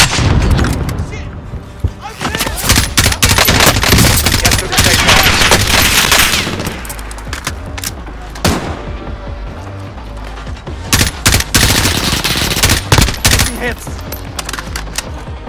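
Heavy automatic gunfire and booming explosions from the video game Call of Duty Warzone, loud and nearly continuous with rapid bursts, briefly easing near the middle before sharp shots resume.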